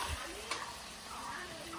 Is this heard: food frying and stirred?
yes